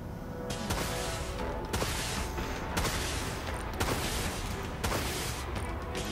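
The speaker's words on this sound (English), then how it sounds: "Broadside plasma guns locked on broadside. Open fire." Broadside plasma guns in the space combat game Dreadnought firing as a sustained barrage of heavy, overlapping blasts with sharp volleys roughly every second, loud and continuous throughout.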